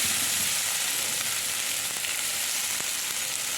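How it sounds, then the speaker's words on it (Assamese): A gram flour mixture frying in a little oil in a pan, giving a loud, steady close-up sizzle with crackling spits and occasional faint stirring scrapes, no speech. "এই পেনখনত দিয়া আছে অকণমান তেল, আৰু তাতে মই এইখিনি দি থ'ম।"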